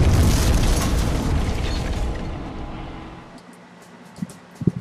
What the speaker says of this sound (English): I could just bomb these.